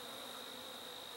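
Honey bees buzz around a hive during requeening of a drone-laying colony, a steady close insect drone with a high whine running unbroken and with no talk over it.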